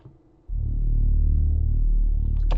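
A heavily distorted synth tone enters abruptly after a brief quiet lead-in, a thick, buzzing low drone that holds steady and loud, with a bright crackling burst at the very end.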